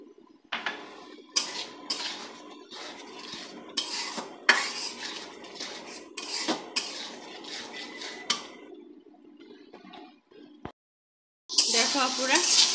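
Beef browning in a pan with chili, turmeric and coriander powder, a spoon scraping and knocking against the metal again and again in a brisk rhythm over a low sizzle, with a brief quiet spell before the frying picks up again.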